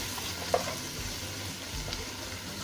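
Vegetables cook in a pan for a Cajun shrimp Alfredo, giving an even, close frying sizzle with a faint clink or two and no voices.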